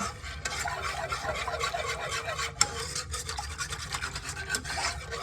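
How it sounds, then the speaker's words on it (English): A spoon scrapes and stirs steadily through flour and milk in a pan while making cheese dip, a continuous close rasping swirl with one sharp knock midway and no talk. "So I'm gonna kind of try to break that flour up."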